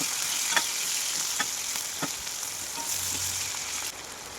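Chopped onions sizzle in a frying pan with green chilies for a chicken and banana flower curry, a steady soft hiss broken by a few stirring scrapes, with no one talking.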